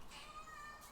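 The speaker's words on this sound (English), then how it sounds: "We have been graced by Cat." A house cat gives a short, thin meow at close range, a single drawn-out cry over a quiet indoor background with no speech.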